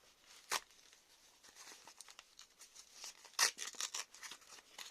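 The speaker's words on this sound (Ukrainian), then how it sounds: "Відкриваємо пакетик." Paper rustling and tearing as a small packet is ripped open, with a sharp rip near the start and a burst of crinkly tearing later, close up.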